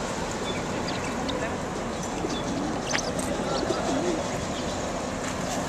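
Pigeons coo at a temple in Taiwan, soft repeated low calls over a constant background wash, with faint chirps and a few knocks around the middle.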